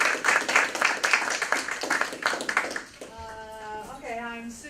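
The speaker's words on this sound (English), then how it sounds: "Let's give them a round of applause again." A class of listeners at a literature discussion applauds the speakers, a few seconds of moderate, uneven clapping that fades out, followed by a voice talking.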